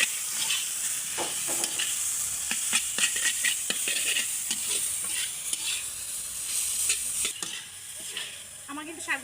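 Bathua greens fry with garlic, onion and green chili in oil, giving a steady close sizzle broken by repeated clinks and scrapes of a spatula stirring the pan.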